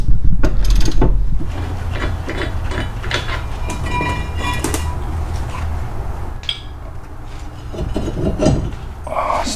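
A ratchet works loose the 15mm caliper bracket bolts on the front brakes of a 2005 Buick LeSabre, giving steady mechanical clicking and grinding with brief louder bursts throughout, close and fairly loud, with no talking.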